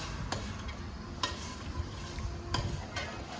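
Vegetables being tempered in a hot pan, a steady sizzle with a few sharp clinks of a stirring spoon against the pan.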